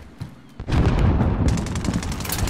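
Loud close gunfire erupts in Call of Duty: Rebirth Island, opening with a few scattered shots before a sustained heavy burst of rapid rounds and crackling impacts.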